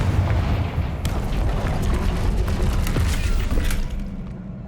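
Explosive blasting spells in the Hogwarts Legacy video game boom through a dense rumbling din, several loud bursts landing over roughly five seconds amid continuous low-end clatter.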